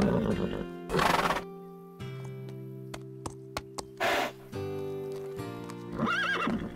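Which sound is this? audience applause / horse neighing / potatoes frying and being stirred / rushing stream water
horse neighing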